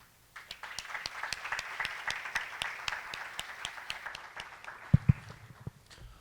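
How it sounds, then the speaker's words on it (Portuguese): A crowd applauds steadily for several seconds, dense clapping from many hands, with a couple of louder sharp claps near the end. "Uma grande salva de palmas para o nosso professor Bertaioli."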